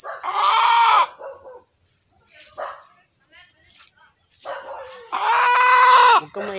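A chicken about to be slaughtered squawks loudly and harshly up close, two long distressed calls with quieter clucks and rustling between them.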